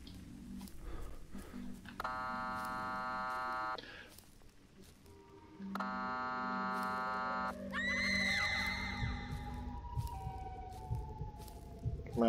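Wailing Siren Head scream in a horror video game, a harsh rising and falling howl over a steady two-tone siren-like drone that repeats twice, over dark ambient game noise.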